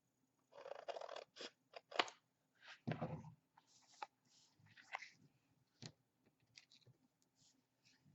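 Scissors snip through chipboard in a quiet craft setting, giving a short series of close, crisp cuts and clicks that trail off into softer handling noises.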